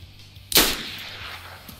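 A single loud, close gunshot cracks out with a lingering tail, followed by a fainter second report near the end; no one speaks.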